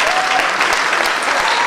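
Audience applause at a Greek song festival award ceremony in Mariupol: a dense, steady wash of many hands clapping together, loud and continuous throughout the short stretch, with no voices standing out.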